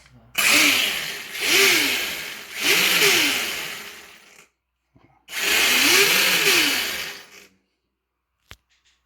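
A Kyosho Black RC car engine revs hard in three quick rising and falling bursts, then one longer sustained rev after a short pause, loud and close, with a faint click at the end.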